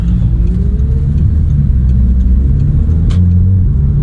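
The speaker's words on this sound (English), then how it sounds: "now let's get it on the road, pick up some speed" A 2008 Audi A3 2.0 turbo with a six-speed dual-clutch gearbox drives on the road with a steady, close low engine drone and road rumble. A slowly rising engine tone suggests gentle acceleration, with no talking.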